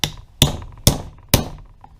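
Rubber end of a hammer tapping valve seals onto a Yamaha Warrior 350 engine head during a valve job: four sharp, evenly spaced taps about half a second apart, close and loud, with no talking.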